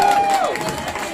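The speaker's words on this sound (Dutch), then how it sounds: "Geef ze daar een applaus." A crowd at an outdoor local concert performance claps and cheers loudly for a dance group, with shouts and mixed voices over the applause and a brief whistle-like tone fading at the start.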